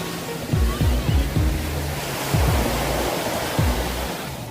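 Broad roaring surf washes steadily on the beach at Cha-am, Thailand, with a few deeper low thumps as waves break, loud and continuous with no voices.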